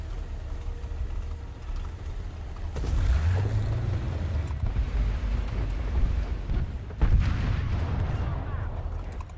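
Tank gunfire in a video game: a deep booming shot near 3 seconds and another around 7 seconds, each with a rolling rumble, over a steady engine drone.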